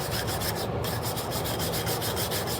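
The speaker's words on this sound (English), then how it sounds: "You gotta scrub it." Close, steady hand scrubbing on a rear differential part, a continuous rough rubbing rasp in quick repeated strokes with a brief pause, no talk.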